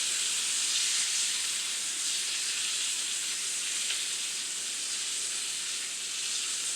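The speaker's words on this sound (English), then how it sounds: "I'm going to let this kind of simmer around in this fish here a little bit" Melted butter simmers around fish in a hot pan, a steady, close hiss and sizzle running evenly throughout with no talking.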